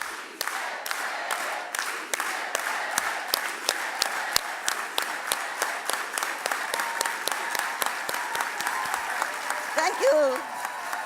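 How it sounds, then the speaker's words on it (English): A dinner crowd at an ACLU Bill of Rights event claps in unison, a steady rhythmic series of sharp, loud hand claps evenly spaced, with a brief voice rising near the end. "let's all go together with an organized hand clap"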